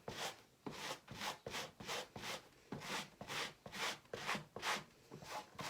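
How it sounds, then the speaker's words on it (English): Rhythmic back-and-forth rasping of sandpaper rubbing against fabric, a dozen or so even strokes, close and fairly quiet with no talking. "you just start sanding the edge"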